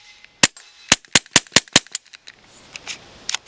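Rapid gunshots from a Taurus TX22 Gen2 .22 pistol, with seven or eight sharp, close reports in a quick string, followed by fainter scattered pops and clicks.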